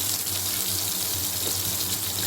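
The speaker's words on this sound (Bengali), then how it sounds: "আর এই পনিরগুলোর মধ্যে আমি গরম জল দিয়ে দেব।" Hot water poured from a vessel over paneer pieces in a kitchen, a steady, continuous splashing gush running the whole time with no talking.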